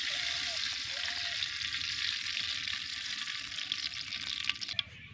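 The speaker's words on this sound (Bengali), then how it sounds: "আমি বড়া ভাজার জন্য তেল দিয়ে দিব কড়াইতে।" Oil hisses and sizzles steadily in a wok on the stove, heating for frying palm fritters, with a few faint clinks near the end.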